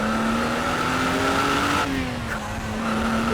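Ferrari 512 TR with a naturally aspirated 4.9-litre flat-12 revving hard in second gear, a bright rising howl that briefly dips at a shift, loud and near under light cabin noise.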